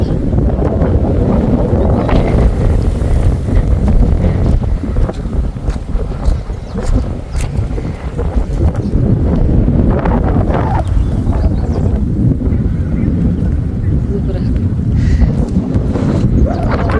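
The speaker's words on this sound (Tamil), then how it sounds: "நல்லா காற்றடிக்குதுங்க." Strong, steady wind roars and buffets the microphone on a mountain at Wadi Hanna near Salalah, Oman, during the Khareef season, a continuous low rumble with gusts rising and falling, and no other clear sounds.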